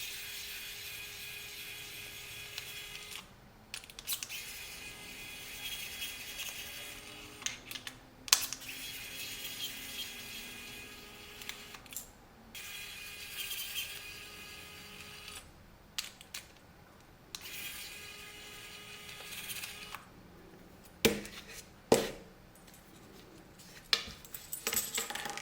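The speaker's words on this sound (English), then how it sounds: "I'm going to start by detaching the front plate using this really cool" An electric screwdriver backs screws out of the front plate of a cooled astronomy camera. Quiet whirring bursts alternate with small clicks and handling taps on a close, faint bench.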